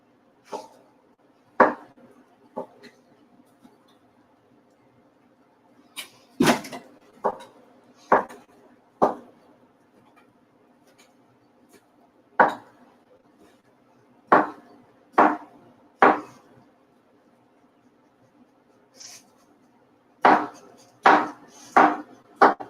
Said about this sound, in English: I don't know if you can hear the chopping or not.